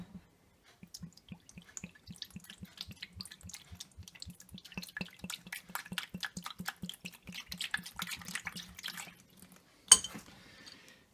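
Liquid trickles slowly into a home-brewing bucket for an IPA in a quick, regular run of soft drips that grows busier and splashier, ending with a sharp knock, quiet and close.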